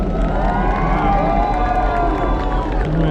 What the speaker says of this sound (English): that applause that you hear is all of them are now on board the Carnival Spirit